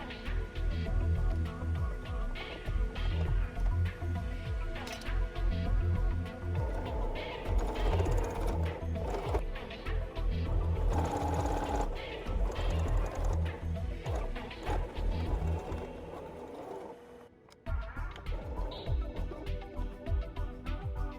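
A sewing machine stitching a seam on a shirt collar, running loud and close in a continuous mechanical whirr with rhythmic ticking, briefly pausing near the end before resuming.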